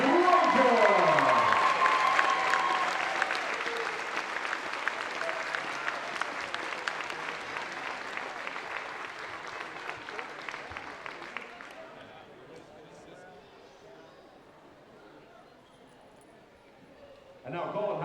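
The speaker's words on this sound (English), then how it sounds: "A big round of applause to Tri-County Trojans." A volleyball crowd at a 2022 B Division championship applauds the runner-up team, the Tri-County Trojans, with dense, sustained clapping and cheering that gradually thins and fades before a voice speaks at the end.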